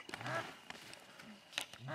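Ducks and geese, including a few snow geese, call over a North Dakota wheat field in winter: repeated quacks and honks in scattered bursts, moderately distant and fairly faint against open-air quiet.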